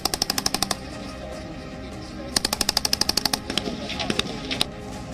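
Rapid machine-gun bursts ring out during a joint Indian-Australian army exercise in Bikaner, two long strings of evenly spaced shots and a few scattered single reports. A Hindi narration runs underneath.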